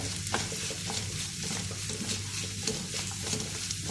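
Onions sautéed on a medium flame in a pan for kadai chicken, with a continuous close sizzle and soft stirring scrapes running evenly throughout.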